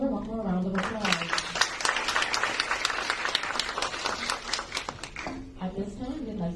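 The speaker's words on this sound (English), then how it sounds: "Let's give her one more round of applause." A room of people applauds a speaker at an Entrepreneurs Speak event: a full burst of clapping fills the middle stretch, with a voice talking just before it starts and again as it fades out.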